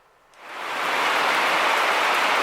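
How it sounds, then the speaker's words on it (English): Heavy downburst rain starts abruptly and swells into a loud, dense, steady roar of broadband hiss that holds at full strength, with no voices. "that's some rain there."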